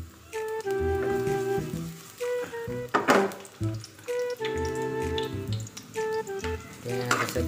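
Onion frying in oil in a pan for a daing silog breakfast: a soft crackling sizzle with occasional clinks from the pan, heard close under background music and faint movement.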